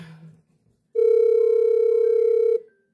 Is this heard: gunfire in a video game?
no